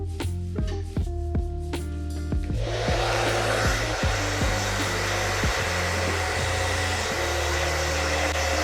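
Hair dryer blowing onto hair at the parting in a barbershop, a loud steady whooshing airflow that starts after a few seconds of soft clicking and handling noises, then runs continuously.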